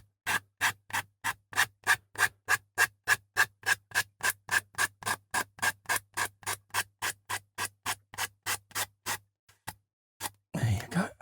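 Carpet edge being trimmed on a 1:8 scale 1966 Batmobile model, a steady run of about thirty quick rhythmic rasping cuts close by, followed by a brief pause and a voice speaking.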